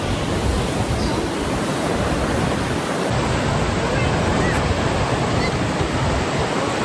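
A steady, dense roar of falling water fills the scene, loud and continuous, with wind buffeting the microphone.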